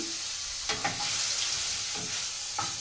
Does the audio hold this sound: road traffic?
no